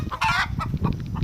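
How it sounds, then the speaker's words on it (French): Hens and a rooster cluck inside a henhouse, a loud close squawk followed by scattered short clucks and rustling. "Là c'est le coq."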